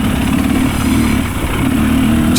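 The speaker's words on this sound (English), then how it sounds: "got the bike running again" A KTM enduro dirt bike just restarted during a hare scramble race, its engine running loud and near with a steady buzzing drone and slight throttle wavers, no talk heard.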